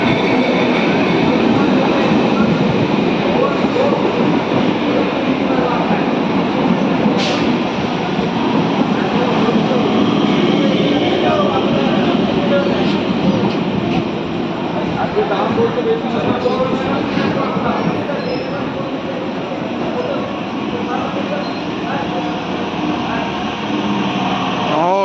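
Inside an Indian railway train running at night, a loud continuous rumble and rattle of the carriage on the tracks carries on steadily for the full stretch, with faint voices mixed in.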